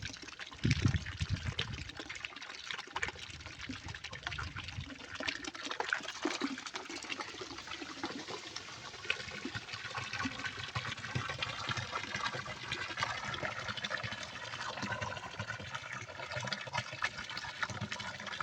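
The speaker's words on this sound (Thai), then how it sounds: "กำลังปล่อยน้ำลงละครับ" Water pours steadily into a catfish-rearing jar during a water change, a continuous close gushing and splashing that lasts the whole stretch without pause.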